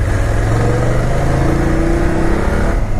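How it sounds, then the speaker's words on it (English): BMW F850GS motorcycle accelerating in first gear, a loud, throaty, deep exhaust note with the engine pitch climbing steadily, heard close and alone. "that throaty, deep exhaust note, it's nice"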